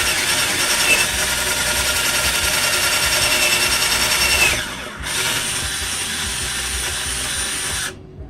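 A power drill boring into an LED grow light fixture held over an ashtray, a steady high whine for several seconds, a short pause, then drilling again before stopping abruptly; close and loud.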